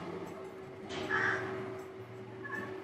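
A crow caws outdoors, a couple of harsh calls at moderate distance standing out over a faint steady background hum, with no talking.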